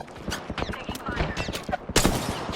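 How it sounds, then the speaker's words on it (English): Video game gunfire crackles in a busy, overlapping mix of sharp bursts across a short span, with a heavier cluster near the end, set against game noise and a voice talking. "Taking fire."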